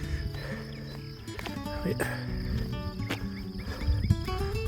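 Crickets chirp steadily in countryside with oak trees along a pilgrimage route near León, a layered outdoor insect chorus with faint birdsong, and a voice briefly speaks over it.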